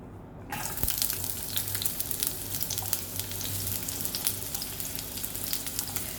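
Sliced onions drop into a hot pan and fry with a steady, close sizzle that crackles continuously throughout, with no voices.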